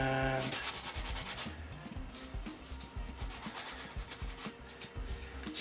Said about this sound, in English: Cut them out. Give them a good